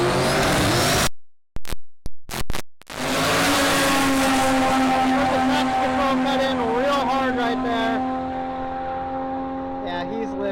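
A drag racing car makes a pass down the track, its engine roaring loud and steady as it pulls away, with a few abrupt dropouts early on and the tone fading slightly toward the end.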